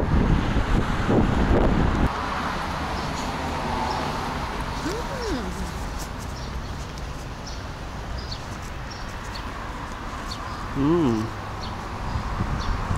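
Steady wind rushes and buffets the microphone throughout, a constant broad roar, with a few brief tonal calls and faint voices in the background.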